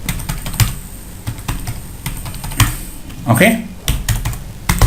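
Fingers type on a computer keyboard while a Linux user account is being created, producing quick bursts of close key clicks in an irregular rhythm, with a voice speaking briefly at the start.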